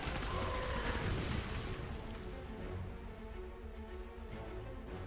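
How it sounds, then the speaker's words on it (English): Dense bursts of rapid gunfire crackle over a noisy, rumbling background in a firefight in the video game Clive Barker's Jericho. "I hope you like the sound of gunfire, because you're going to be hearing that a lot"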